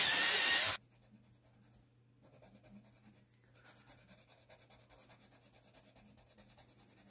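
A gray pencil shading on paper makes a steady, close, soft scratching rub in quick repeated strokes, after a brief loud burst at the start and a short pause.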